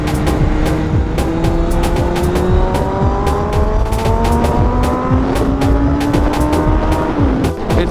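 A Kawasaki Ninja ZX6R converted to a streetfighter revs hard through a curve, its engine note climbing and shifting steadily, loud and close over constant wind buffeting.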